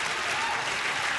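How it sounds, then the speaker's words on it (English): Applause sound effect played on a radio show, a brief, even burst of crowd clapping, fairly quiet and continuous throughout with no distinct individual claps standing out. "we got that applause"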